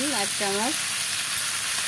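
Jackfruit seeds fry and are stirred in a pan with a broad steady sizzle, while someone speaks briefly near the start.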